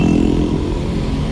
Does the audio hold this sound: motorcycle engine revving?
yes